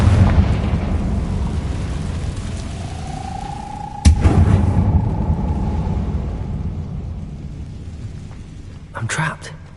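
A Confringo blast spell detonating in Hogwarts Legacy: a sharp, loud burst about midway, trailing into a long, fading rumble over steady low background noise, with a brief clatter near the end.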